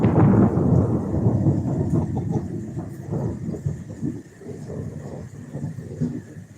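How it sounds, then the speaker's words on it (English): Heavy thunder from a Tennessee storm booms and rumbles loudly at the start, then rolls on in lower, uneven waves with no talking. "that is the loudest lightning I've ever heard in my life"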